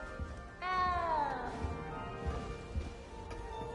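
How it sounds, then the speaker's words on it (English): A small cat meows in Hogwarts Legacy, one drawn-out, falling mew up close over a low game ambience, with faint thumps after it. "You don't need to be frightened, little cat."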